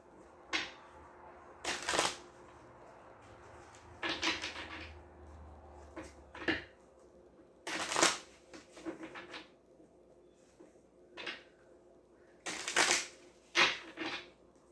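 Tarot cards shuffled in a series of quick, crisp riffling bursts separated by quiet pauses, close and fairly soft, with no voices.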